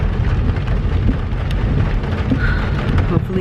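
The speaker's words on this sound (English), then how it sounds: "it is still raining" Steady rain falls throughout, with a dense hiss of drops drumming on a surface, likely heard from inside a moving car; a faint brief tone rises briefly near the end, and no one speaks.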